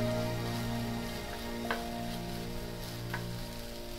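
Ginger and mixed vegetables frying in a pan over a medium flame, giving a steady close sizzle throughout with a couple of brief stirring scrapes and no voices.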